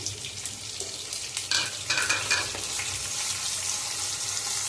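Onions, green chillies and curry leaves fry in a pan with a soft, steady hiss, joined by a few louder scraping stirs near the middle; quiet and close, no voices.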